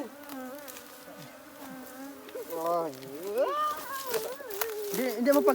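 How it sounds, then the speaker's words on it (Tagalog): Honey bees swarm out of an anahaw palm as smoke drives them off, a dense close buzzing that swells and grows louder, with people talking over it. "pinapausukan para magsialisan yung mga bubuyog"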